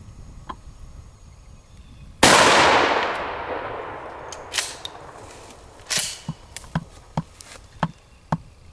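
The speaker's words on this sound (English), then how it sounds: "there's a big black steel plate back there. We'll take a shot at it." A single loud blast from a Remington 870 tactical 12 gauge shotgun firing a slug at a big black steel plate, its sharp report decaying over a couple of seconds, followed by scattered clicks and knocks, all outdoors with no talk.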